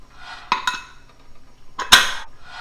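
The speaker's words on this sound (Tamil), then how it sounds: "மூடி போட்டு" Two sharp metallic clanks, close by, as a metal lid is set onto a pot of cooking mutton, with quiet pauses in between.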